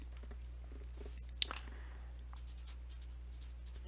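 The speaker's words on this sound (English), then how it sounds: "And I'll write that here again." Chalk or marker writing on a board during a math lesson, faint scratchy strokes with a sharper tap midway, over a steady low hum.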